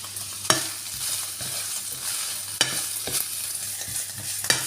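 Scrambled egg with spinach and spring onion leaves stir-fries in a pan, making a continuous close sizzle broken by regular spatula scrapes and knocks roughly every second, with no talking.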